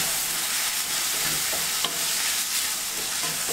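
Tomato cooking down in a pan of palak gravy gives a continuous close sizzle with light stirring and occasional small clicks, steady throughout and without speech.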